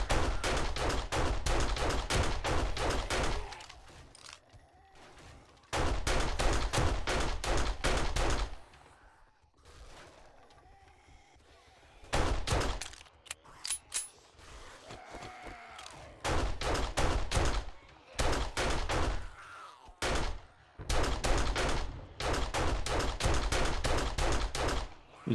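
9mm gunfire in the 7 Days to Die video game comes in rapid bursts of shots several seconds long, separated by short quieter gaps, loud and close with no talking.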